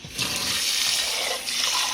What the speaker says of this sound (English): I'm going to wash my rice very well, and you will see that as it washes, the water turns white.